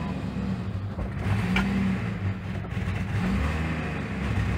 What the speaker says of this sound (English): I'm working the gas pedal to try to keep it running.